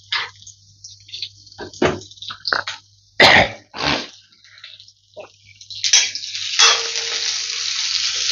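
Potatoes fry in a pan for a Kabuli matar curry, with intermittent sizzle bursts and clinks of stirring that turn into a steady, close hiss near the end.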